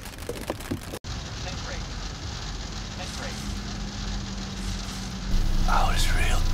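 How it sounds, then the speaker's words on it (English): Rain during a storm patters steadily as a broadband hiss that swells louder near the end, with faint crackles and brief voices in the background. "Looks like a storm is coming up."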